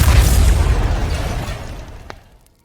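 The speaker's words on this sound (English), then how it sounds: "at that very moment the energy creates a huge explosion" A huge explosion from an energy crystal booms loudly at once and then rumbles away over about two seconds, a deep blast that fades out to near silence.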